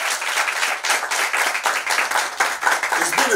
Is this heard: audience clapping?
yes